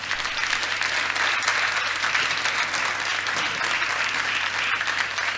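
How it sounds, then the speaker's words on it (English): A conference audience at a climate solutions summit applauds, a dense, steady wash of clapping that holds evenly for several seconds with no pauses. "Let's give a big round of applause."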